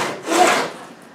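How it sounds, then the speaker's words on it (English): A drill bores through a spot weld on a Land Rover Defender seatbox panel, a brief grinding swell that rises and fades within about a second, close and fairly loud. "simply turn it upside down and drill it through the bottom"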